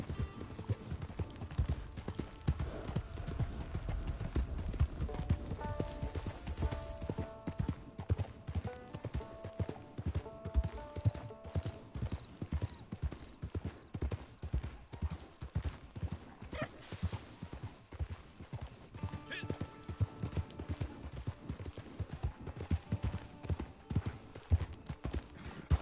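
Horse hooves galloping in Red Dead Redemption 2, a fast steady clip-clop rhythm that keeps up for the whole stretch, close and continuous, with no one talking.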